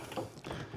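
A few quiet mechanical clicks and ratcheting rattles as the waste bin is removed from a Bambu 3D printer, close by and brief, with no voices.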